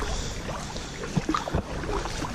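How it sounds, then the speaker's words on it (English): Paddle strokes from a canoe on the River Wandle, soft splashes and drips sitting over steady wind and water noise, with a few brief knocks near the middle. "Here's a relaxing video of me paddling in the kayak."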